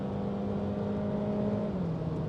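Honda Fit with a CVT and paddle shifters, 150,000 km on the clock, driven on the Fuji Speedway circuit: steady engine drone with a sustained tonal hum that slides lower near the end, continuous and fairly loud, no talk.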